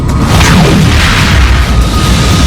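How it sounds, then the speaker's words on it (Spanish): A deep, cinematic boom sound effect standing for a supernova explosion, loud and sustained with a rumbling low end and a sweeping whoosh that tails off over about two and a half seconds. "La explosión de la supernova no solo sembró la nube gigante de gas con elementos pesados como el hierro y el uranio."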